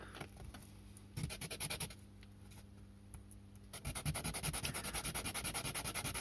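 Soft metal washer for an HO slot car motor being ground down, heard as a steady rhythmic scraping and rubbing that pauses, then returns in fast regular strokes, close and fairly quiet.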